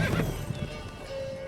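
Geralt's horse in The Witcher 3 gives a short, loud whinny over clip-clopping hooves, followed by a faint steady tone in the game scene.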